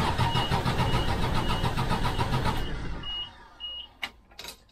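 An old bread truck converted into an RV cranks and starts, the engine churning loudly and steadily up close before cutting off, followed by a couple of faint beeps and clunks.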